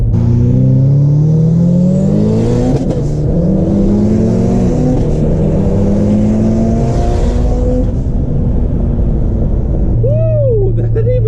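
A Mitsubishi Evo X and Evo 8 racing on a street, loud engine roar with rising and falling gear-change pitch sweeps throughout, heard close from inside the car, with voices talking over it.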